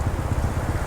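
Heavy rain pours suddenly during a school drop-off, a dense, steady hiss of drops drumming on a surface, loud and close for a brief moment with no voices.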